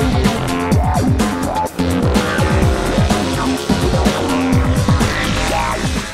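A Ducati 1199 Panigale sportbike ridden hard around the Mugello circuit, its engine note loud and close, rising and falling steadily through repeated gear changes, with tire noise underneath.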